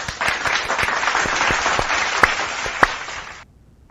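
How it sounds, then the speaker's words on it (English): A brief round of applause with distinct individual claps from a few people, including a couple of sharp louder slaps, fading out abruptly near the end. "let's give a big round of applause for everyone."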